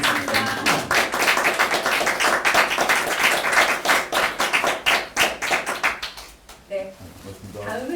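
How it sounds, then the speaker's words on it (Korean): An audience claps at a Korean political party's thank-you gathering, a dense, loud burst of applause that fades out near the end, with a voice speaking as the clapping dies away. "큰 박수 부탁드리겠습니다"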